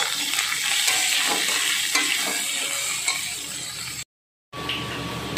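Chopped carrots for chicken egg chow mein being stirred in a hot frying pan, a loud continuous sizzle with periodic spatula scrapes, close up, cutting off briefly near the end before resuming, with no voices.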